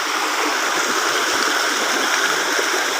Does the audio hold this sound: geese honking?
no